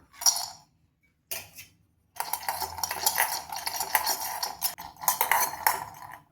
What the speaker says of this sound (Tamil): பாதாம், முந்திரி, பிஸ்தா அடுப்பை சிம்மில் வச்சு இதை லேசாக வறுத்துக்கலாம்